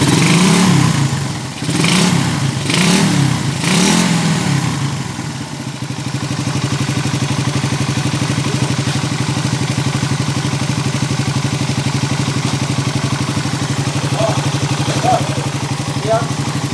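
A Suzuki Raider 150 motorcycle engine revved in several quick surges close by, then settling into a steady, rattly idle with a knocking sound inside, with voices in the background.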